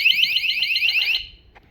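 A water leak detector triggered by a few drops of water shrieks with a loud, shrill, fast-warbling electronic tone, close up, for just over a second before stopping suddenly.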